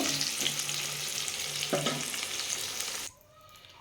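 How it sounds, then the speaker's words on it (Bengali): New potatoes frying in hot oil in a pan make a strong, steady sizzle with a couple of stirring scrapes, then the sound drops away suddenly to near quiet. "আমার আলুটা লাল লাল করে ভাজা হয়ে গেছে"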